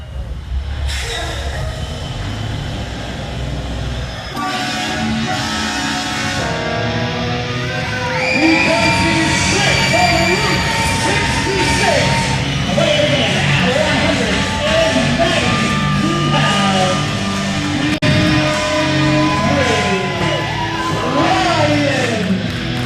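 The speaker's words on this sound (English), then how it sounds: "You heard the reaction for Colton." A large wrestling crowd cheers, whoops and yells loudly and continuously as crowd favorite Big Rig Bryan Colton heads to ringside at a WWN Proving Ground show, with entrance music blending into the sustained roar.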